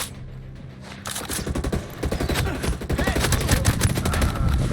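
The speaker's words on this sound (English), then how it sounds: "people shooting at me from 2 directions here" Dense, rapid gunfire from several directions in the tactical shooter Ghost Recon Breakpoint on Extreme mode, loud and continuous bursts overlapping one another.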